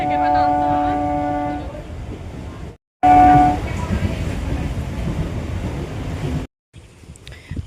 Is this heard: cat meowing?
no